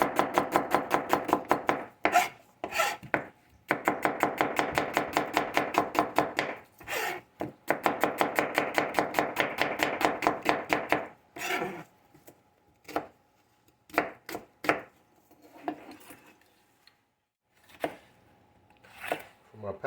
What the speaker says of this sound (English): My peppers, I just cut around them